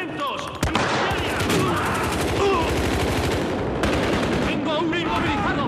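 Rapid automatic gunfire from the Battlefield Hardline video game rattles almost nonstop in loud, dense bursts at close range, with game voices shouting over the shooting.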